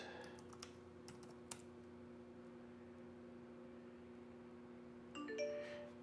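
A password is typed on a computer keyboard during a macOS install. A few faint, sparse key clicks sound over a quiet hum, followed near the end by a soft chime.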